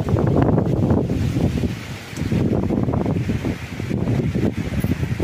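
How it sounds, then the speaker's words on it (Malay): Strong wind buffets and roars across the microphone in gusty waves, loud and continuous, at a riverside while prawn fishing. "hari ni ya, angin kuat."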